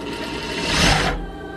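A sewing machine runs steadily while stitching around a pocket on a pair of pajamas, its motor whirring in a fast continuous buzz that swells slightly, then eases off.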